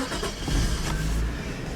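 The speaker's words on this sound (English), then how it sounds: "let's just listen to the engine real quick" Nissan R34 Skyline GT with its RB20 engine idling close by, a steady low rumble with a soft mechanical hum, even in level throughout.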